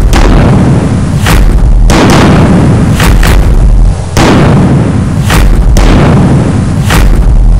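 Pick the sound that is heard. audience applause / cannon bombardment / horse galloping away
cannon bombardment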